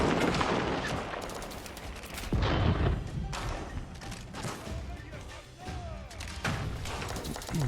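Hand cannon gunfire in the real-time strategy game Age of Empires, during a ranked match with siege and bombard units: repeated sharp shot bursts and thuds crackle throughout, under steady commentary speech.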